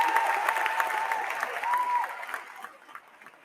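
Sustained applause from a large crowd at a university graduation ceremony, steady clapping that gradually fades out toward the end.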